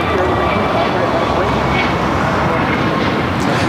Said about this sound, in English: Florida, American Airlines Flight 2418. It's an A321neo.